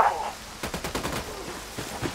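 Bursts of rapid video game gunfire crackle in uneven volleys, with a few heavier booming cannon shots mixed in, fairly close and loud.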